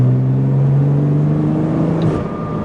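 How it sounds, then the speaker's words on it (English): Porsche with a PDK gearbox in Sport Plus mode, its exhaust droning loud and close as it accelerates, engine pitch climbing steadily while the gear is held, then easing near the end. "Yeah, then you get more of the sound of the exhaust."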